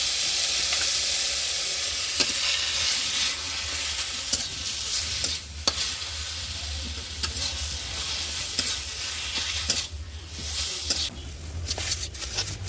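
Vegetables and spinach fry in a pan with ginger paste as a steady sizzle and hiss, broken by sharp clicks and scrapes of a stirring spoon; no one speaks.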